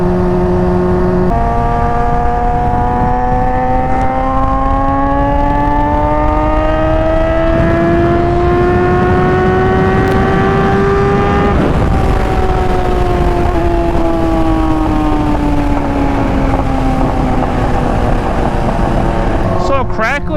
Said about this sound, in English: Forgot how loud this bike is.